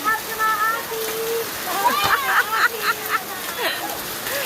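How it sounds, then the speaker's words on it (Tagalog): Steady rain falls during a downpour in the Philippines while people bathe in it. The constant hiss and splatter continues under lively, close voices. "Sarap maligo sa ulan, oh."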